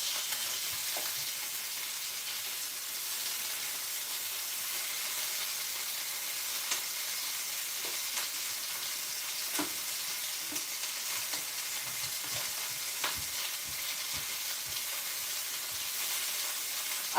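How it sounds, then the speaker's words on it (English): Chicken pieces searing in a hot pan give off a steady, close, bright sizzle with occasional crackles and soft scraping of stirring, lasting throughout with no talking. "They did enough searing for now."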